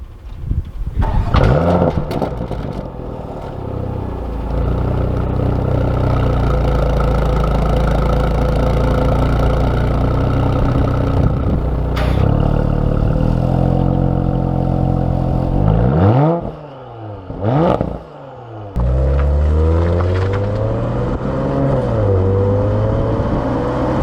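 A Porsche Macan Turbo engine revs hard and holds high for a launch control start, loud and close with sustained mechanical roar, briefly dipping twice near the end before surging again.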